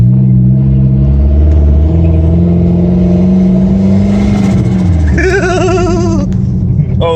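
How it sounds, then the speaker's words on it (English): A Merkur XR4Ti turbo car accelerates from inside the cabin, its engine note droning and climbing loudly, then a rising, wavering turbo whistle and whoosh near the end, with voices talking over it. "Oh, the turbo noises."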